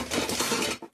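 Two metal karahi and other washed pots being put away, a steady clatter of clinking metal for most of a second before a last knock and quiet.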